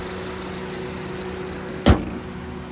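Steady low hum of a 2013 Honda CR-V's 2.4 liter four-cylinder engine idling under an open hood, with a single sharp thud near the end.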